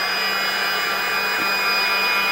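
Heat gun blowing hot air onto a glued compartment cover of a Ninebot Segway electric scooter, a loud, steady whooshing hiss with a faint whine that runs unbroken throughout.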